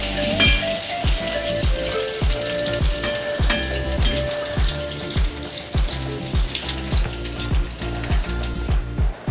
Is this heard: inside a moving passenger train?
no